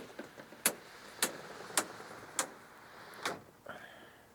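A Patriot tonneau cover closes over a pickup truck bed with a run of five sharp, evenly spaced clicks. A duller latch thunk follows. The sounds are close and moderately quiet over low background hiss.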